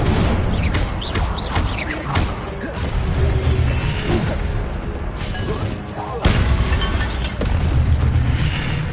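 Repeated Incendio fire spells cast in Hogwarts Legacy, heard as a dense run of booming bursts and crackling whooshes over a constant rumbling game-combat bed, with one sharp hit late on.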